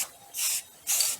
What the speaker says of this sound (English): as you can tell, we're using spray can